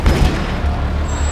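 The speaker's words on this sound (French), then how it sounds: "un premier coup de feu résonne" A single gunshot rings out on a Paris morning during the August 1944 liberation insurrection, heard as a loud booming report whose echo fills the whole short moment with no voices.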